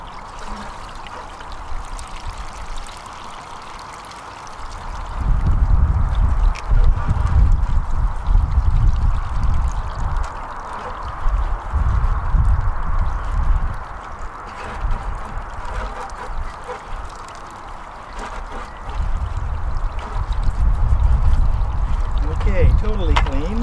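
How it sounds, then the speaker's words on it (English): Water poured and sloshing while a bucket is rinsed out after gold recovery work, a continuous splashing gush rising and falling in bursts, with someone talking at times. "Now we'll wash out the bucket."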